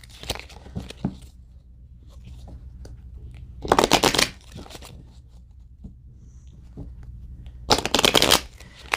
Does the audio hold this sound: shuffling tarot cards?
yes